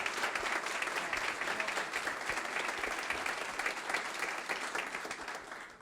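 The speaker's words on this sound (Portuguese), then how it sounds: "Salva de palmas para São José." An audience applauds at a business event, a dense, steady wash of many hands clapping that carries on throughout, moderately loud, and fades a little at the end.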